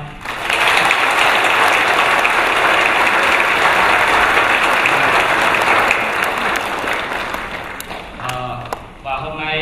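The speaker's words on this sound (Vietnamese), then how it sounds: "chúng ta hãy cùng ờ, chào đón ngài với một tràng pháo tay" A church congregation gives a bishop a long, loud round of applause, dense clapping that holds steady for several seconds before thinning out, with a few voices and scattered claps near the end.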